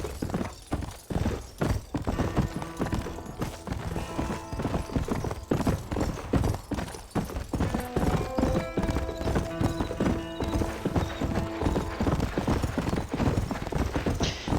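Horse hooves clip-clop steadily in Red Dead Redemption, a fast, continuous rhythm of hoofbeats with occasional neighing and game music layered underneath, fairly close and loud throughout.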